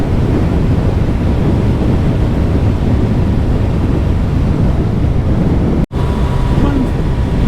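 Loud, steady wind blast roaring over a rider's helmet at speed on a 2022 Suzuki Hayabusa motorcycle, a constant broadband rush with one brief dropout near the end.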